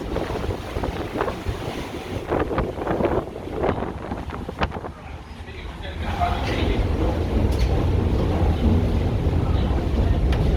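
Deck of the paddle steamer Waverley sailing far out in the North Sea, with loud wind buffeting and a broad rush of water and waves, a few knocks early on, then a steadier roar.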